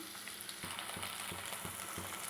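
Potato pieces hit hot oil for a crispy potato fry, giving a faint, even sizzle with soft rhythmic knocks like stirring or a spoon tapping the pan.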